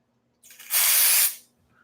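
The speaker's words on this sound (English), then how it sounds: "I'm gonna test it with contact cleaner" Contact cleaner sprays onto a computer's RAM slot in one close, loud hiss lasting about a second, rising quickly and tailing off, with no talking.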